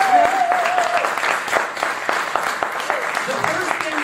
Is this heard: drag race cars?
no